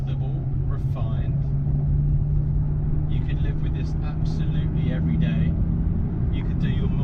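A Ferrari FF with a V12 cruises at about 1,000 rpm in fifth gear near 27 mph, keeping a low, smooth, steady rumble under ongoing talk.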